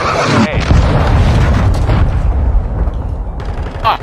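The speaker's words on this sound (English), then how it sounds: "Friendly cruise missile inbound" Cruise missile strikes in a shooter video game land as a loud, rumbling barrage of booms and crackling blasts, close and continuous, with a sharp metallic ping near the end.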